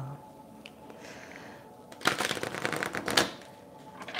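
A quick burst of tarot cards being shuffled close by, a riffling flutter lasting about a second after quiet handling sounds.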